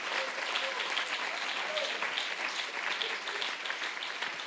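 A church congregation applauds during a convention service, steady dense clapping at moderate distance that continues throughout the whole stretch.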